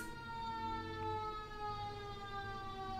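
Wailing emergency vehicle siren with a steady high tone sliding slowly downward, loud and close for three seconds with no talk over it.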